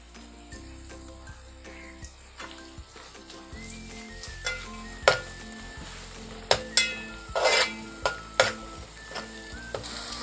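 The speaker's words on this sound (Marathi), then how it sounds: "कांदा आपला नरम झालाय, आता त्याच्यामध्ये आलं टाकते, थोडीश कोथिंबीर टाकते।" Onion, ginger and coriander sizzle steadily while frying in a pan for a traditional Koli-style dish, with scattered sharp clinks and stirring scrapes punctuating the continuous crackle, close and fairly loud.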